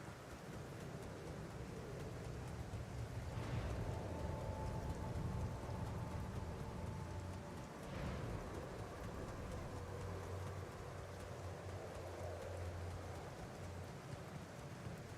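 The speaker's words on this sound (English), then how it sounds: "Just non-stop rain all the time." Steady, non-stop rain in the video game The Alters, a continuous dense hiss of rainfall with faint distant rumbles, heard alone at a constant moderate level throughout.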